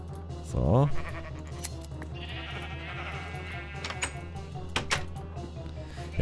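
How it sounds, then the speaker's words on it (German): A sheep in the video game Minecraft gives one clear, close bleat near the start, followed by a quiet game background with faint soft ticks and clicks. "sobald wir die Schafe sehen, die scheren können"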